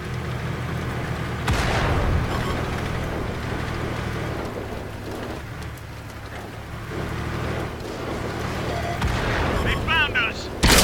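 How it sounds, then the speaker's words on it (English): Artillery fire in the World of Tanks game: heavy booms land at intervals over rumbling battle noise, with a soft rain-like hiss and a few sharper impacts near the end. "There's artillery shooting at me now."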